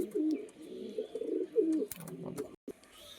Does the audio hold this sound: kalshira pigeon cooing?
yes